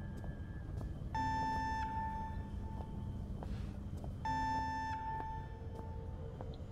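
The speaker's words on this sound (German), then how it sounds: "Wo kommt dieser Alarm her?" An alarm in the horror video game Penumbra Overture blares in two separate bursts of steady, buzzy electronic tone with a pause between them, over a low ambient rumble.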